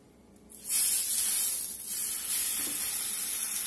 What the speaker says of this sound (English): And I want this to fry up in here until a nice crust and fond build up on the bottom of this skillet.